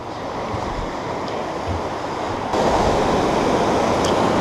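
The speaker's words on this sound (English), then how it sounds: "that, my friends, is a pretty decent waterfall" A waterfall on the East Lyn River in Exmoor roars as a steady broadband rush of falling water, close and constant. It grows louder partway through, with some wind buffeting and no speech.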